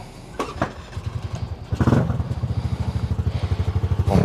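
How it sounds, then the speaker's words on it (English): A Honda Navi motorcycle engine fires up close by with a few clattering catches, then settles into a steady, rapid single-cylinder putter that pulses evenly to the end. "Ladies and gentlemen, I bring to you the Honda Navi."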